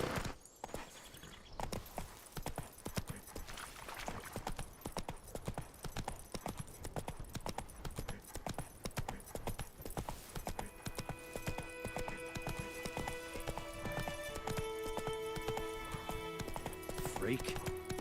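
Horse hooves gallop in a steady, fast clip-clop rhythm within The Witcher 3 game, loud and continuous over a bed of game ambience, with a brief voice early on and layered musical tones later.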